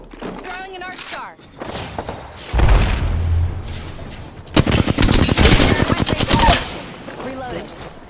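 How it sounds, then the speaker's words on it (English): Video game gunfire crackles in two heavy stretches of rapid, close bursts with a thudding boom, while voices talk before, between and after the shooting. "There's another squad shooting at us."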